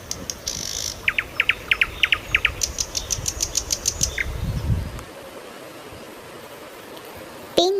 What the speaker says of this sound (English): Nightingale, Bulbul,